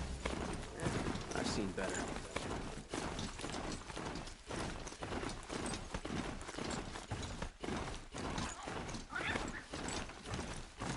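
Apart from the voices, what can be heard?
hoofbeats of a ridden mount in Horizon Zero Dawn video game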